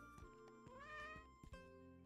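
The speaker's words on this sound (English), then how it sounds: "That's a cat." A cat meows in the video game Wandering Sword, one drawn-out, clear call heard over quiet game music with soft footsteps and no talking.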